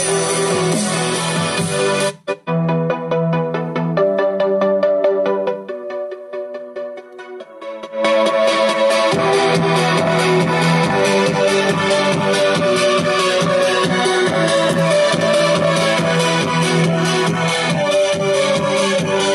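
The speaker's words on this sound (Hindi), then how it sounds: "हम इसके ऊपर एक मोबाइल फ़ोन कनेक्ट करके गाना चला कर आपको दिखाते हैं" A song played from a mobile phone through a homemade Bluetooth speaker, loud, steady music with a short break near the start and no speech over it.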